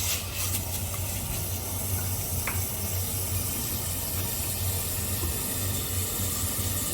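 Beef frying in a pot for Korean seaweed soup, a steady broadband sizzle and hiss running continuously near and fairly loud, with no voices over it.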